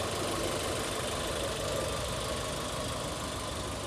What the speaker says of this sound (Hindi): Okay, this is a 1300 CC 1300 cc VVT engine.